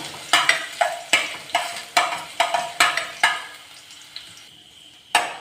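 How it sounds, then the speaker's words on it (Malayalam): Minced ginger frying in hot coconut oil, a soft sizzle broken by repeated sharp scraping and stirring strokes of a spoon against the pan, about a dozen in a loose rhythm before a quieter pause. "വെളിച്ചെണ്ണ ചൂടായി വന്നാൽ അതിലേക്ക് ഒരു ടീസ്പൂൺ ഇഞ്ചി കൊത്തി അരിഞ്ഞത് ചേർത്ത് കൊടുത്തൊന്ന് മൂപ്പിച്ചെടുക്കണം"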